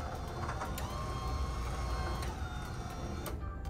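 A machine with a hard rubber drive belt runs quietly, a steady low mechanical hum with faint whirring and a few light clicks, and nobody speaks.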